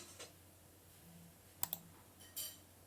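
A few sharp, quiet clicks spaced out over a few seconds, like a computer mouse being pressed, with a faint steady hum underneath.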